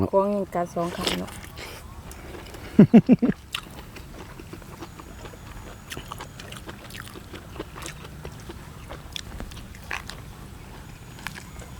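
Someone bites and chews a stew of young buffalo with herbs out in an open rice field, faint wet chewing and crunching under steady outdoor background noise, with a few short sharp clicks early on.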